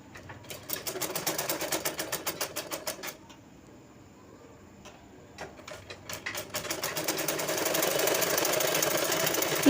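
A sewing machine stitches the front panel of a blouse, running in fast rapid bursts with a short pause midway, then a steadier continuous run near and fairly loud.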